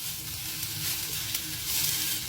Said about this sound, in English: now while the sausages are still cooking